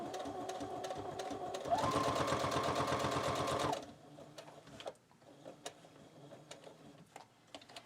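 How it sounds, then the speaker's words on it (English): Sewing machine stitching across a folded paper pocket on a file-folder junk journal, a loud rapid mechanical chatter for about two seconds, then stopping and leaving faint handling clicks. "you just simply want to fold it up and go ahead and stitch over it"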